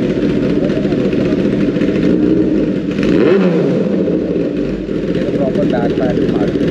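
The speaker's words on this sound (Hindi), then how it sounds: "अभी इसका ना एग्जॉस्ट ऑन करके SC की आवाज़ सुनते हैं" A Kawasaki ZX-10R motorcycle fitted with an SC aftermarket exhaust snarls loudly, with one sharp rev that rises and falls midway over a constant engine drone. Voices are mixed in.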